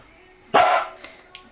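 A dog gives a single short, loud bark at a bin, followed by a couple of faint clicks and quiet background sounds.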